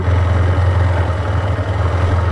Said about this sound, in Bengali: বাইক চালিয়ে নিয়ে যাচ্ছে দেখো